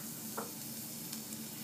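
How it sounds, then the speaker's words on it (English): Garlic sizzling in hot oil in a pan for shrimp lettuce wraps, a soft, steady frying hiss with a low hum beneath and a couple of faint stirring clicks, no speech. "my pan is starting to heat up just a little bit. And I am going to add about a tablespoon, half a tablespoon of garlic"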